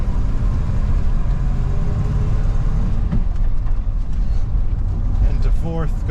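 A 1985-style Chevrolet Suburban Squarebody with an NV4500 manual gearbox and 4.10 gears driving on the road, a loud steady engine drone and road rumble filling the cabin.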